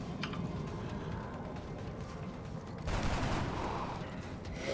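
Video game gunfire in XCOM: Enemy Unknown, a dense rattling burst of shots under a continuous loud background din, growing louder partway through, with no talking.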